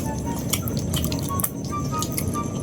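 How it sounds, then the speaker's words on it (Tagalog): Juice drips from shrimp during a seafood feast, heard as soft, wet drips and squishy clicks up close over a low background hum. "Tumutulo yung shrimp"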